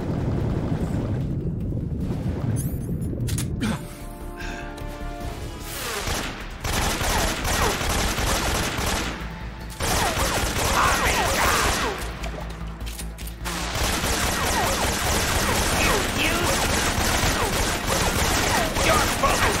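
Sustained bursts of automatic gunfire in Metal Gear Solid 3, loud and dense, broken by a few short pauses before the firing resumes.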